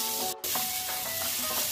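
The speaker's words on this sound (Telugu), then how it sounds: "జీలకర్ర వేయండి, వేపాకు కలపండి. ఇది సుమారు 2 నిమిషాల వరకు వేగనివ్వాలి." Cumin seeds and curry leaves fry in hot oil in a pan with green chillies for a spicy chilli recipe, giving a steady close sizzle with a brief dip partway through and no talking.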